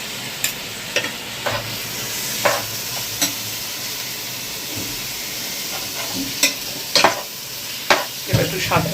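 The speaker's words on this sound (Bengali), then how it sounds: "এবার একটু সাঁতলিয়ে নেব।" Soaked rice and grated coconut are sautéed in a pan, with a steady sizzle of frying under repeated scraping stirs of a spatula at an irregular rhythm, close and fairly loud.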